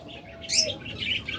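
Pet budgerigars of the opaline split blue variety chirp in a bird farm, short bright bursts of twittering rising and falling across the clip, fairly close, with no one talking over them.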